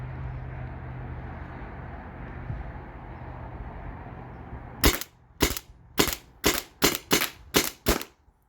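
A modified Byrna TCR launcher fires rubber balls at a target in eight sharp, evenly spaced cracks after a stretch of quiet outdoor ambience.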